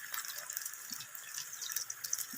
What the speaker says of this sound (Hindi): अब थोड़ा सा हम इसमें पानी डाल देते हैं